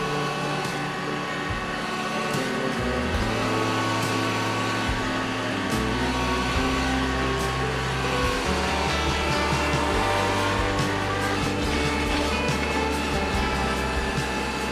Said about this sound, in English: it was all that that tractor could do to pull it